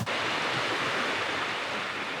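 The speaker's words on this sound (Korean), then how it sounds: "마을을 관통하는 우렁찬 강물 소리를 따라 걷는다." A river rushes loudly through a small hot-spring town in Ureshino, Japan, as a continuous broadband roar with no breaks or voices.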